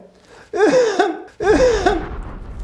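Two forceful coughs in quick succession, close and loud, each with a rough voiced burst trailing off.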